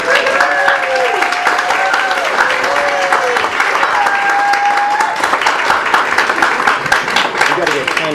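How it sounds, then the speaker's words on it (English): Audience at a science pub applauding as a speaker is introduced, loud and sustained clapping throughout, with voices talking over it. "And please, some applause for Rita."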